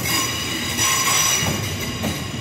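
A West Midlands Railway Class 323 electric multiple unit in Regional Railways Centro livery at Birmingham, a loud close rumble of wheels with squealing and faint rhythmic clacks as it moves past, with no voices.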